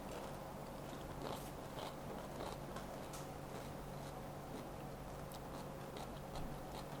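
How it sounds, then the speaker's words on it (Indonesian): Crunchy cucumber seasoned with salty, savory and spicy coating being bitten and chewed up close, a run of soft crisp crunches and munches over a steady background hum. "Renyah, timunnya masih tetap renyah."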